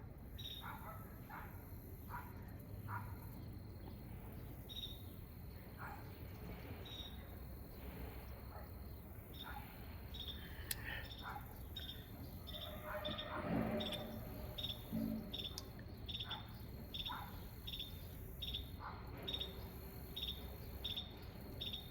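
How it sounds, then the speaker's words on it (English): A katydid's loud, steady rhythm of repeated buzzing calls pulses throughout, close by, with a brief fainter dog-like sound partway through. "Got this giant, I think it's a katydid."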